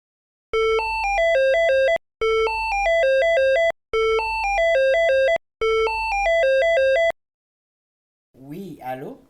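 Telephone ringtone playing four repeated melodic bursts with short gaps between them, loud and close, followed by a brief voice answering.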